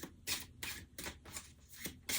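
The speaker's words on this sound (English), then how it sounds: "So, a couple more shuffles. This deck feels really fun to shuffle." A deck of cards is riffled repeatedly up close, several quick papery shuffling bursts in a steady rhythm.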